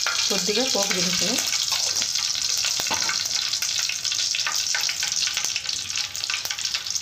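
Tempering spices frying in hot oil for an Andhra black-eyed pea rasam, a loud continuous sizzle and crackle with stirring, close and dense throughout.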